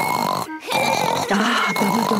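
A cartoon pig voice imitates snoring with a couple of rough, grunting snorts, close and fairly loud, over a busy background of music or chatter.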